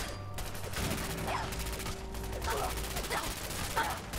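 Rapid gunfire from a weapon in Fallout 4 comes as a dense burst of shots over steady game ambience, with someone talking excitedly over it.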